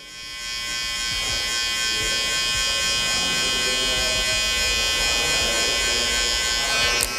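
Electric hair clippers buzz steadily as they cut a man's hair during a barbering graduation fade, the close, even hum running almost the whole time with a brief rise near the end.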